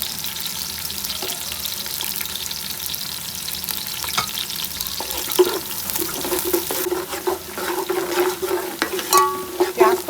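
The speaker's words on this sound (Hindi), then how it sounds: "प्याज को फ्राई कर लेंगे।" Onions fry in oil with bay leaf, garam masala and white cumin for yakhni pulao, a loud, steady sizzle with frequent spoon scrapes and clinks, growing busier toward the end.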